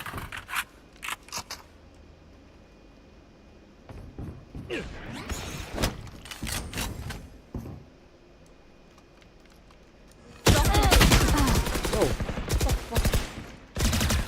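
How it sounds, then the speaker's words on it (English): Gunfire from the tactical shooter game Valorant, with sharp bursts of shots scattered through the first ten seconds, then a dense, loud stretch of rapid firing and impacts near the end. "I shot somebody."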